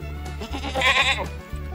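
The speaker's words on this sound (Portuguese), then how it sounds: "Cabra." A farm goat gives a single short, wavering bleat, loud and close, over a low steady background hum.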